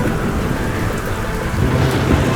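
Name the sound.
rain and thunderstorm at sea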